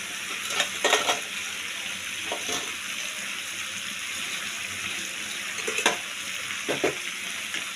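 Spiced masala with peas sizzles steadily in a pan as water goes in for a potato and pea curry, with a constant hiss and a few stirring scrapes and clinks.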